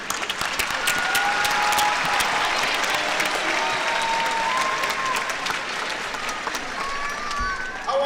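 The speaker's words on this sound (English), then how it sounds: "Class, clap for your families" Graduating class at a Pennsauken High graduation ceremony claps for their families, sustained loud applause with scattered whoops and cheers throughout.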